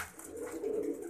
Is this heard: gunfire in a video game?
no